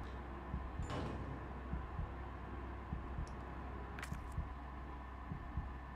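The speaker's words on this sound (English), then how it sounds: "And it's not just my heartbeat." A slow, steady heartbeat pulses in the video game Resident Evil 3, with low, soft thumps in an even rhythm over a constant quiet hum. There is no talking.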